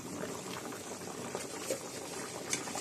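Jackfruit curry bubbling in a cooking pot, giving a steady low simmering bubble throughout with a few brief louder pops, heard alone without voices.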